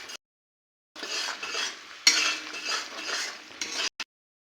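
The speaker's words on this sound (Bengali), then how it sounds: "এভাবে অনবরত নাড়তেই থাকতে হবে।" Mashed cabbage is stirred nonstop in a pan, a spoon scraping and clinking against the metal in bursts of rough scratching, separated by short silent pauses.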